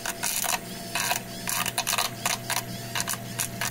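Vevor 800W EDM machine working to remove a broken #4-40 tap with its smallest electrode, pulsing in irregular bursts of buzzing crackle over a steady low electrical hum, close up.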